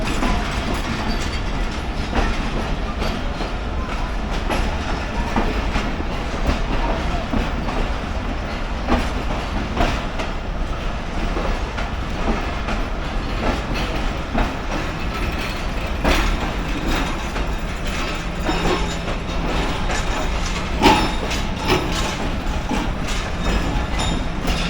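Pak Business Express pulling out of Lahore behind locomotive power, a steady rumbling train with continuous rail clatter and metallic clicks, loud and close throughout with no talk.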